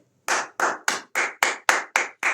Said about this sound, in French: On acclame le Seigneur depuis votre position